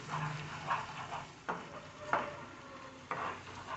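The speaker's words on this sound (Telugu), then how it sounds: "ఫ్రై అవనివ్వండి బాగా. చూడండి ఆయిల్ కూడా పక్కకు వచ్చింది చూడండి, చక్కగా ఫ్రై అయిపోయిందండి." Prawn curry masala fries until its oil separates, a quiet sizzle punctuated by several distinct spatula scrapes against the pan at irregular intervals.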